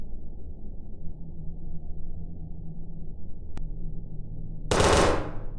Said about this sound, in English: Gun blast.